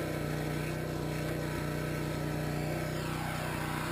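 A pressure washer blasts a tunnel through soil and gravel under a concrete sidewalk, its engine running in a steady, loud drone with a constant spray hiss throughout, no voices.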